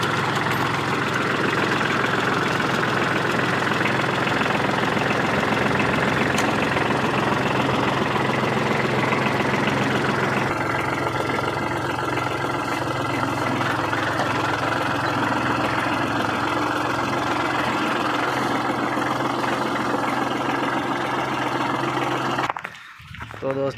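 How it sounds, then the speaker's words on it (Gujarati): A Kubota tractor engine runs at a steady idle with a low, continuous rumble, joined by people talking over it; the sound cuts off abruptly near the end. "તો આ આપણું કુબોટા ટ્રેક્ટર છે, અત્યારે હું એને હવે સ્ટાર્ટ કરીશ"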